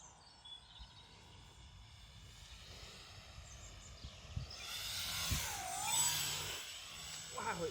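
A homemade RC plane's motor whines softly at low throttle during flight, a faint thin tone that rises and dips as the plane passes, with outdoor background and people talking nearby.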